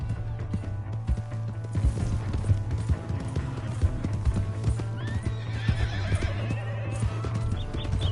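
In Red Dead Redemption 2, a horse whinnies over the steady clip-clop of its hooves, close and continuous, with busy game ambience underneath.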